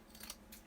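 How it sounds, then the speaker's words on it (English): Quick scissor snips trimming the fabric edge of an embroidered treat pouch made on an embroidery machine, a short close cluster of two soft cuts with no talking. "I'm going to trim this one out real quick"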